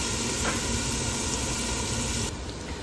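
Onions sautéing in a pan for aloo gobi curry, a steady close hiss and sizzle throughout that drops slightly in level near the end.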